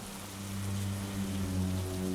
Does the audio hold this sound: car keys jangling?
no